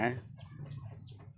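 A Burmese fighting rooster gives a brief cluck at the start, followed by softer, faint bird sounds over a steady low background hum.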